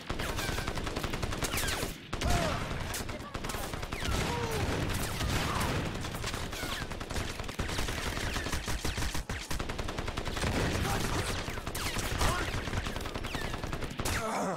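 Suppressed automatic fire with subsonic rounds in the shooter game Crysis crackles almost nonstop in rapid bursts, with brief pauses between volleys and battle noise filling the background.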